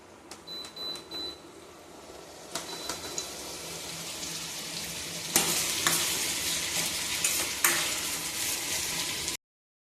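Food frying in hot oil, a continuous close sizzle with scattered clicks and scrapes of stirring that grow louder and denser partway through, with no voices.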